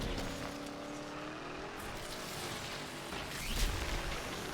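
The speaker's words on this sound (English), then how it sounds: "Third gear launch with it." A Foxbody Mustang launches in third gear in the Need for Speed Unbound racing game, its engine droning steadily with rising harmonic layers and a brief louder surge near the end, with no talk.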